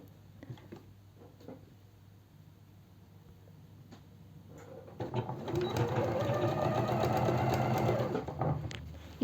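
A sewing machine stitching a seam on a simple four-panel elastic-waist skirt, starting after a few faint handling clicks and then running steadily and close for several seconds. There is no talk.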